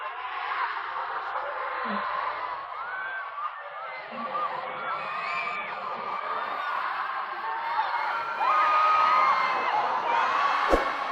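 A large crowd roars and shrieks continuously at a concert at Istora Senayan, Jakarta, a dense wall of excited screaming and cheering that swells louder toward the end.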